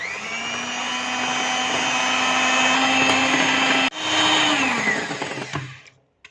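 An electric mixer beats powdered sugar into vanilla cupcake batter with a loud, steady, high motor whine that briefly dips, resumes, then winds down and stops near the end.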